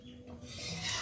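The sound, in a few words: stirring boiled lentils (dal) with bitter gourd in a pot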